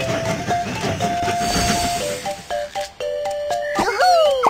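A toy train setting off in a Babybus kids' video game, with a chugging rail rumble, a string of bright whistle-like tones, and playful chimes near the end, all loud and close.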